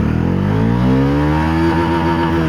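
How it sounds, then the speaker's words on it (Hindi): A Bajaj Dominar 400 motorcycle accelerates hard in first gear, its engine note loud and close and climbing steadily in pitch as the revs rise without a break. "एक बार टेस्ट करके देखते हैं बाइक की परफॉर्मेंस को"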